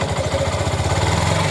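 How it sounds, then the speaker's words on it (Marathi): Yamaha Saluto motorcycle with a worn clutch housing and plates idling close up, its engine giving a steady rapid clattering knock that repeats evenly throughout, with no one talking. "त्या गाडीचा असा खटखट खटखट आवाज आहे"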